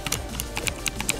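Rapid, light computer clicks tap out an irregular rhythm during a Terraria Calamity Mod session, close and crisp with no talk.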